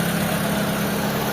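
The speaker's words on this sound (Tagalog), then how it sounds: "Yung makina yan, maandar na." Overhauled Mitsubishi Lancer engine running steadily at idle, a close, even mechanical hum with no voices.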